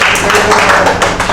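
At a poetry reading, an audience claps in a brief, close burst of quick, uneven hand claps that lasts only a moment.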